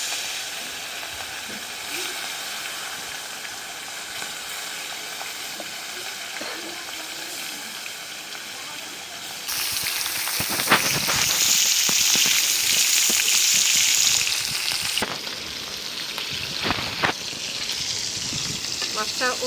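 Fish pieces fry in hot oil in a home kitchen. A soft, steady sizzle swells into a loud, crackling hiss about halfway through, then settles back to a gentler fry with scattered pops.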